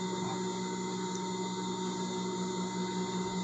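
A sewing machine hums steadily as it stitches a doll dress, its loud continuous motor whir unbroken from start to finish.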